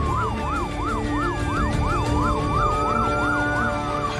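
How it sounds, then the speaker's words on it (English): An ambulance siren wails in a fast, regular rising-and-falling pattern as the vehicle drives on lights and sirens at about 130 through traffic, loud and close with a steady road rumble beneath. "We're on lights and sirens going 130"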